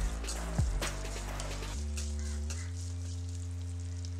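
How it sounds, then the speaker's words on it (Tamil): Ten to fifteen shallots frying in a pan for radish chutney are stirred lightly, giving a soft, steady sizzle beneath a strong, continuous low electrical hum. "இப்போ இதை லைட்டாக கிண்டி விட்டுக்கலாம்."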